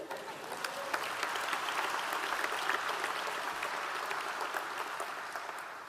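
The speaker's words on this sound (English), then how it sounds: "Let's give her a massive round of applause." Sustained applause from a large evening audience at an awards event, greeting a speaker's mother in attendance; dense, steady clapping holds at an even level throughout, with no voices rising above it.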